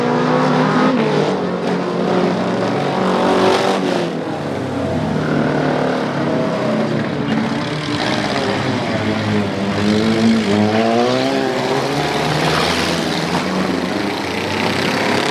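Dirt-track race cars at a fall festival dirt race in Upperco roar together as they accelerate, a loud continuous engine drone with rising and falling revs throughout.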